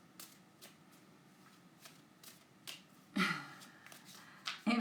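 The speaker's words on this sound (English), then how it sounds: "These cards do not want to shuffle." Tarot cards being shuffled by hand, a stiff deck riffled and slapped in short bursts of papery rustling and flicks, with louder snaps toward the end, close and alone.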